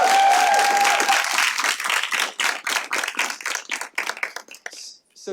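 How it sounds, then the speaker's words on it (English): Audience applause for the guests at a university interview event, a burst of clapping that thins into scattered individual claps and fades out near the end, following a brief tone at the start. "Round of applause for our guests."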